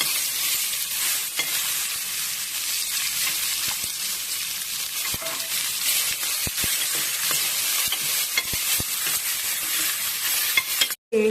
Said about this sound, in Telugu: తరిగి పెట్టిన ఉల్లిపాయ వేస్తున్నాను.